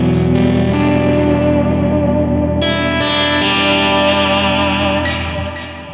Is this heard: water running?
no